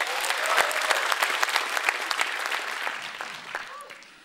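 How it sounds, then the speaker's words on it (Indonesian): An audience at a stand-up comedy show claps, with sharp individual claps standing out in a lively but moderate round that gradually thins, and faint crowd voices underneath. "Tepuk tangan untuk kalian semua."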